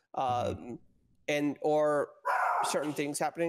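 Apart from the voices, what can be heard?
dog barking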